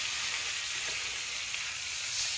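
Fish frying in a pan gives a continuous, even, hissing sizzle, fairly close and steady throughout with no talking.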